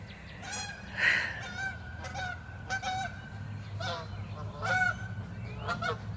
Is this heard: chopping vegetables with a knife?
no